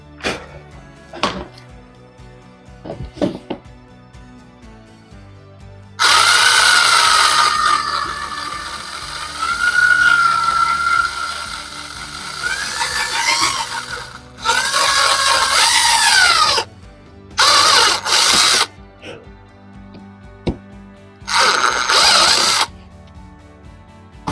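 An electric drill whines loudly through metal in several bursts of varying length, with quiet clicks and handling noises between them.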